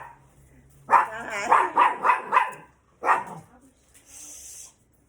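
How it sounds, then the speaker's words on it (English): A puppy at home barks goodbye as visitors leave: a quick run of five close, sharp barks, then one more bark after a short pause, with quiet room sound between. "that's my puppy"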